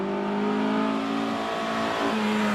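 An Italian race car climbs the hillclimb course at Prescott, its engine note holding strong and steady and then rising sharply in pitch as it accelerates near the end, heard fairly close with no talk.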